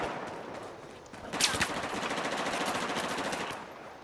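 Rapid automatic gunfire from a Battlefield 4 match in Gun Master mode on Golmud Railway, steady bursts with a sharp louder shot near the middle, continuous without talk.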